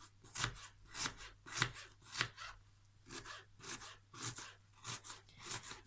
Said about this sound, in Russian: Значит, режем луковицу